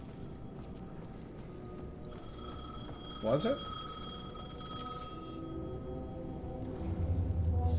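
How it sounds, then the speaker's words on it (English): An in-game payphone in Alan Wake 2 rings with a sharp metallic trill, clear but fairly faint, heard once amid ambient hum, with a voice speaking briefly. "The payphone was ringing."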